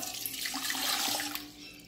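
Filtered water is poured into an industrial blender jar while cassava is being prepared, a short splashing pour that is near but fairly quiet and heard alone.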